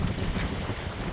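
Wind rushes across a sailboat at sea in a loud, continuous roar with buffeting on the microphone and no voices.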